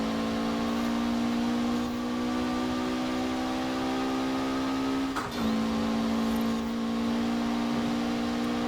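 A Mitsubishi Evo VI races in Forza Horizon 4 against Subaru STIs, its engine holding a loud, steady high-rev drone with a brief dip around a gear change midway.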